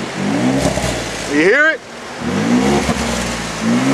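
A 2011 Ford F-150 with a 3.5-litre EcoBoost twin-turbo V6 rumbles and revs nearby, a steady engine tone throughout, briefly interrupted as someone speaks over it.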